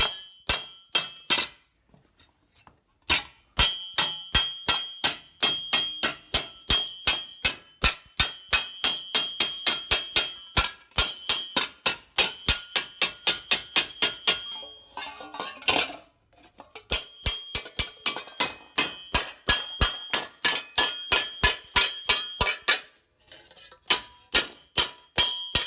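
A 3-pound hammer planishing a steel armor helmet on an anvil: a long run of sharp, ringing metallic strikes in a quick steady rhythm, close and loud, broken by a few short pauses.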